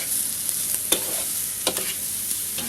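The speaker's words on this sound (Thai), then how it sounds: "ก็ผัดให้เข้ากันก่อนนะครับนะ" Pork ribs stir-fried with curry paste in a pan, a continuous close sizzle with a few scattered scrapes and knocks of the spatula.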